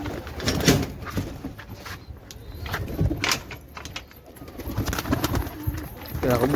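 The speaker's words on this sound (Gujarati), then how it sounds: "થોડા કબૂતર બારે બેઠા હતા." Pigeons cooing and fluttering in a coop being opened and cleaned, soft repeated coos under continuous nearby household noise and occasional thumps.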